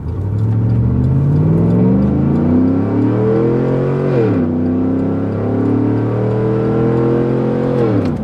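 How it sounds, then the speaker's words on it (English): A Cadillac Escalade on a racetrack accelerates hard from standstill toward 100 km/h in automatic mode, its engine roaring loud and close with rising pitch, a brief dip at a gear change, then climbing again without any talk. "Let's see what this car can do from 0 to 100 kilometers an hour."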